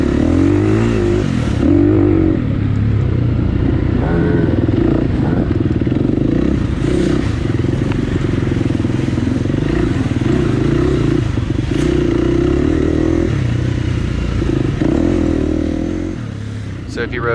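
A dirt bike races around a District 14 AMA hare scramble course at Dutch Sports Park, its engine roaring loud and close with steady revving and throttle changes, while a voice talks over it throughout.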